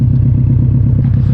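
A modified exhaust on a Subaru car rumbles steadily in a loud, close, low pulsing idle, with a brief lighter rise near the end and no voices.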